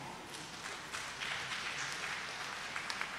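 A church congregation at a Christmas morning Mass applauds, steady diffuse clapping from many hands filling the space at a moderate, slightly distant level.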